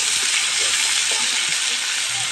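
Five-spice, dried chili and bay leaf tempering in hot oil for a simple snake gourd dish, giving a steady, close, bright sizzle that runs evenly with no pauses.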